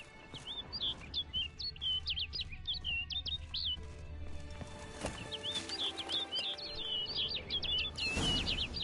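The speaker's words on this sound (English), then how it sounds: "Looks like the bird's leading me somewhere." Birdsong in the Witcher 3 video game: repeated quick chirping phrases, bright and fairly clear, in two bursts over a low ambient game soundscape with faint hoof-like clops.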